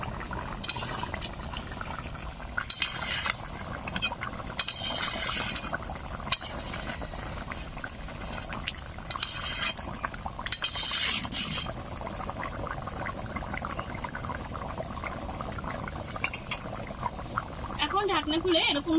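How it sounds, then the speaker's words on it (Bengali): Chicken curry with gondhoraj lemon leaves simmers uncovered in a pan, giving a steady bubbling, boiling sizzle throughout, with occasional clinks of a utensil against the pan. "এখন ঢাকনা খুলে এরকম ভাবে আরো 10 মিনিট মতো জাল করে নেব"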